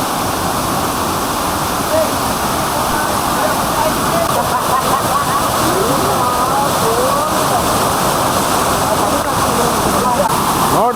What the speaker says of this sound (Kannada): ಏನು ಹೈಟಿಂದ ಬೀಳ್ತಾ ಇದೆ, ದಬ ದಬ ದಬ ದಬ ಅಂತ ಬೀಳ್ತಾ ಇದೆ ಗುರು.